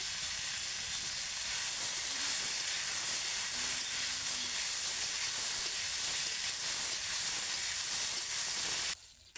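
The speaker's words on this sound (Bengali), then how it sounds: "আলুগুলো একটু লবণ হলুদ দিয়ে ভেজে নেব" Potatoes frying in oil with salt and turmeric, with a steady loud hissing sizzle that runs almost unbroken throughout and stops abruptly at the end, close and without talking.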